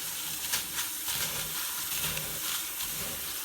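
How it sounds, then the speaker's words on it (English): Aquarium gravel rinsed and swished around in a container of water, giving a continuous hissing, sloshing rush with repeated surges as it is stirred, close and fairly loud. "So just rinsing it off, swishing it around."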